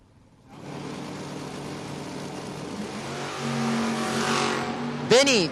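A 1968 Camaro at a drag strip revs and launches, its engine note climbing in a steady rising drone for several seconds before a sharp final sweep, with announcer talk over it.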